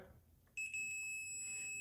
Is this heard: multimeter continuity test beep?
yes